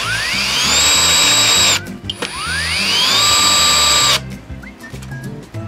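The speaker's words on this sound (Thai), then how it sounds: "สมมติเราจะขันเข้าไปปุ๊บนะครับ น็อตตึงปุ๊บเนี่ยเห็นไหมเขาจะหยุดการทำงานเองเลยเนาะ" A Xiaomi 12V Max cordless drill drives a screw in two loud, close bursts, its motor whine climbing in pitch with a clicking ratchet underneath, each burst cutting off abruptly when the screw tightens.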